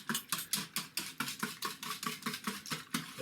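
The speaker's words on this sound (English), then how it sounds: "Let's give it a little whisk until all comes nicely together" A whisk beats sugar into a rice pudding custard in a bowl, a steady rhythmic scraping and sloshing of about a dozen quick strokes, close and alone with no talking.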